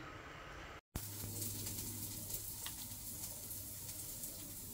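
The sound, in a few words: laing (taro leaves) cooking and sizzling in a pot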